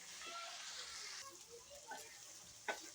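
Masala sizzles as it fries in a pot for kofta, a faint steady hiss with soft stirring scrapes and one sharper clink near the end, while a person talks quietly.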